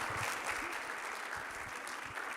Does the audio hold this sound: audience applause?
yes